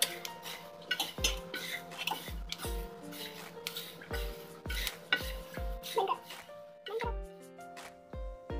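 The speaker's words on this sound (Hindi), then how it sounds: "अब हम पोहे को अच्छे से मिक्स करते हैं" Flattened rice (poha) being stirred with turmeric in a pan, producing repeated clinks and scrapes of a utensil against metal at a steady rhythm, close and fairly clear, with a faint hum underneath.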